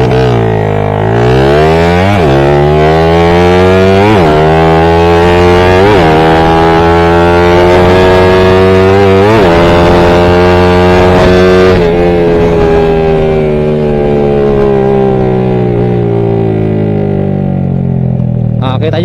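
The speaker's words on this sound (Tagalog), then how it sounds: "Dumadamba-daba pa yung motor natin bawat shifting natin." A motorcycle engine revs hard and climbs in pitch, dropping briefly at each gear shift, several times over, loud and close, then holds a high drone.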